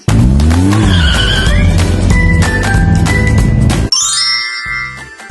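A loud cartoonish toy car zooms and skids with squealing tires, followed by bright tinkling chimes as it fades out.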